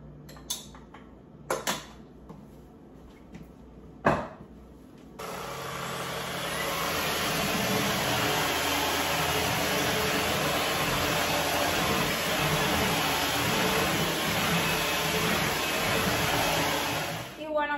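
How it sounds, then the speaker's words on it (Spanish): A household vacuum cleaner picking up fine grains from a kitchen floor, starting after a few scattered knocks and then droning loudly and steadily with a high whine for about twelve seconds before cutting off. "voy a hacerle una tomita poniendo granitos para que vean la potencia de la aspiradora"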